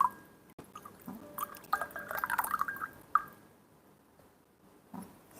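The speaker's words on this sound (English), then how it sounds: "Pouring is great, really lovely." Ripe pu'erh tea poured from a handmade, hand-painted clay teapot with an inner filter, a soft trickling stream of liquid into a cup lasting about two seconds, with faint drips and quiet surroundings.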